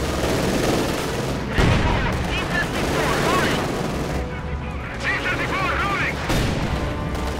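DP-28 machine gun fire rattles in Company of Heroes 2 during the battle of Stalingrad, with dense bursts and explosions piling up in a loud, continuous wartime din while a voice talks over it.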